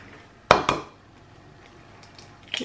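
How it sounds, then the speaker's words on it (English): Eggs cracked against a bowl for air-fryer KFC-style chicken make two sharp, close taps in quick succession, a short pause, then a fainter tap near the end, in a quiet room with no talking. "the next thing I'm going to do is just beat 2 eggs into a bowl"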